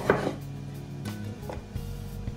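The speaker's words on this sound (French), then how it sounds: "Alors je les coupe en rondelles pas trop épaisses, le plus finement possible." A knife cuts potatoes or leeks into thin rounds on a board for a potato and leek gratin, giving a few distinct, close chopping taps spaced irregularly.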